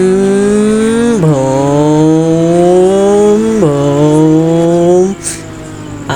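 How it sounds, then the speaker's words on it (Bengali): A cartoon motorbike races along fast, its loud, steady engine whine climbing in pitch and dropping abruptly twice as if shifting gears, holding close and alone for about five seconds before cutting off. "আমি যে দ্রুত বাইক চালাচ্ছি"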